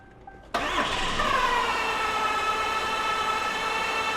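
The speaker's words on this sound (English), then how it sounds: "Okay, crank on it" After a short quiet moment, a car engine with a no-start fault cranks abruptly and keeps turning over loudly and steadily without catching.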